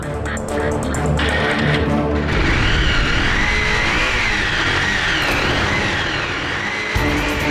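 A motorbike that has stood for days in a garage fires up and runs, giving a loud, continuous engine roar up close that holds steady to the end with no talk over it.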